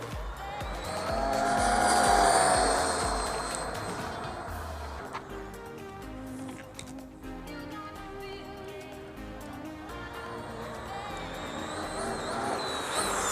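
A Hobao Hyper VS2 RC buggy races at speed with a high, buzzing motor whine that rises and falls as it passes, plus faint tire scrubbing on the ground.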